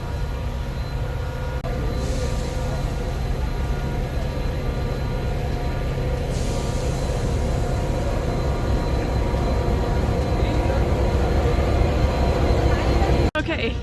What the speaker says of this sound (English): It's cool coming up the train track and seeing the front of the train staring you down.